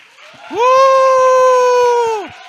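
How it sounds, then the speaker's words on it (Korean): During a church anniversary service, a long, loud, sustained shout rings out for about two seconds. Soft rhythmic clapping runs faintly beneath the voice. "우리 하나님께 10초간 우리 소리와 함께, 큰 소리와 함께 박수를 한번 합시다"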